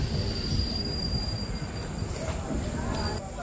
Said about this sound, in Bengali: জলপাইগুড়ি থেকে কিন্তু কৃষ্ণনগর স্টেশনে কিন্তু ট্রেন ঢুকলো